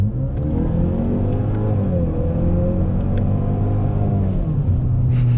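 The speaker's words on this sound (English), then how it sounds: "We're gonna do a couple more revs and then we'll wrap it up." A 2017 Ford Fusion turbo engine revs steadily up close, a loud rumbling drone with rising and falling harmonics, and a brief airy hiss near the end like the blow-off valve venting.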